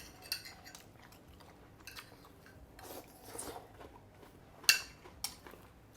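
Close, crisp crunching comes in irregular bursts as stir-fried prawns are chewed, with sharp cracks standing out between quieter grinding bites.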